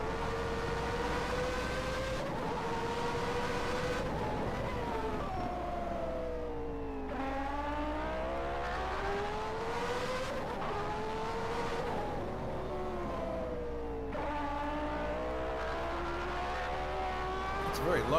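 A 1991 Formula 1 car at the Spanish Grand Prix idles and burbles at low revs, its engine note rising and falling in several slow swells, steady and fairly close, with commentary talking over it.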